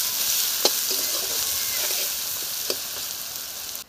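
Onion fries with salt in a pan, giving a steady, fairly loud sizzle with a few light ticks from stirring and no talking.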